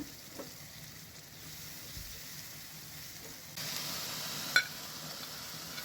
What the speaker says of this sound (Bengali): প্রথমে আমি তেলের মধ্যে কাঁচামরিচ ও পেঁয়াজ বাটা দিয়ে দিলাম এরপর আমি হালকা পরিমাণে আদা রসুন বাটা দিয়ে দিলাম